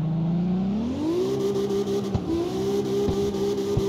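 Racing-game car engine in CarX Street revs steadily while drifting, a loud sustained rising then held whine with small dips and a few sharp clicks, alone without talk.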